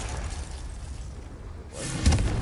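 Confringo fire-blast spell from the Hogwarts Legacy video game, a rising rumble that bursts into a deep booming explosion near the end, loud and close.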